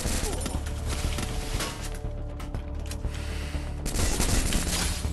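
Rapid bursts of Mini Uzi gunfire in the shooter game Free Fire Max crackle steadily throughout, loud and dense, with a brief lull in the middle before firing picks up again.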